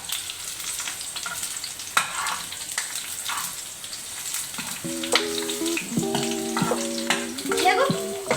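Okra and green chillies fry in a tempering in a home kitchen, a close, steady sizzle with stirring scrapes, then bright tonal clinks of utensils near the end.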